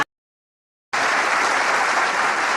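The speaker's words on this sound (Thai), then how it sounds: "ขอเสียงปรบมือให้คุณเฉลี่ยมค่ะ" Audience applause at a televised school music contest breaks in suddenly after a moment of silence, a dense, loud, steady burst of many hands clapping with no voices on top.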